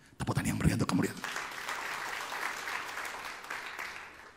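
Warm applause in a church congregation, rising sharply and holding as a steady mass of clapping after a brief burst of voices at the start.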